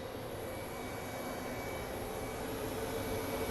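A Boeing 777 airliner on approach to land at Phoenix Sky Harbor International Airport gives a steady, even jet-engine roar, moderately distant, with no talking.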